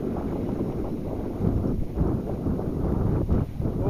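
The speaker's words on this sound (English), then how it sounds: "Here comes a gust." A gust of wind sweeps over a small sailboat under sail, a low rumbling buffet against the microphone that swells and dips, steady and close throughout.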